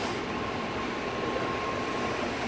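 Steady, continuous rumble and rail hiss inside a BART Fleet of the Future train car riding northbound from Fremont, with a faint tonal whine running underneath.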